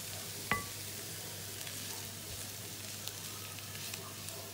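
Ingredients with spice powder sauté quietly in hot oil in a pan for Tamil fish patties, a soft continuous sizzle with a sharp clink near the start and faint occasional scrapes, close but low in level.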